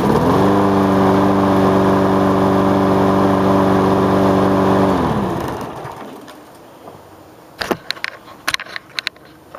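A push lawn mower's small engine runs with a loud, steady, even drone for about five seconds, then winds down and cuts off, leaving a few sharp nearby clicks and knocks in the quiet.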